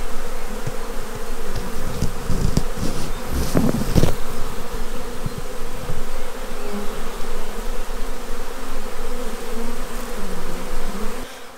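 A large swarm of honey bees hanging in clustered masses on trees fills the air with a steady, dense buzzing drone, close and continuous, with a few louder passes of individual bees near the middle.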